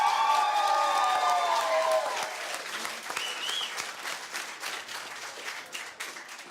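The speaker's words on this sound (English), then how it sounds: "a big round of applause for a Green MP" A studio audience applauds and cheers for a Green MP on a TV panel show, a dense, loud burst of clapping with whistles at the start that gradually thins and fades over several seconds.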